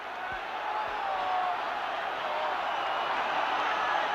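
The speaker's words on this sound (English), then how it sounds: "Listen to the Molineux crowd." Football crowd at Molineux during a 1972 UEFA Cup Final first leg between Wolves and Tottenham Hotspur, a steady, broad roar from the terraces filling the whole clip at an even level.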